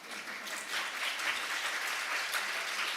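Sustained applause from a conference audience in a large hall, a dense even wash of many hands clapping, moderately loud, with no voices over it.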